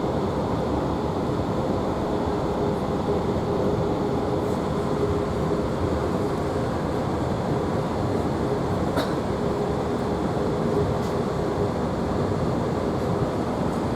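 A GWR Class 165 diesel train runs between Blackwater and North Camp, heard as a steady, continuous rumble and roar of wheels and engine throughout, with no speech.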